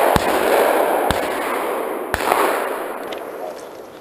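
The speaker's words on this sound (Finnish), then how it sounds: "Ammu Ville pois, minä en kehannu" Shotgun blasts ring out outdoors during a pigeon hunt in Finnish woods, three sharp cracks about a second apart, loud and close over a steady background hiss.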